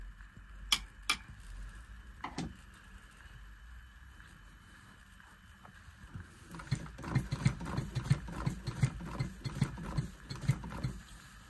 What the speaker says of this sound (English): sounds like the glands are leaking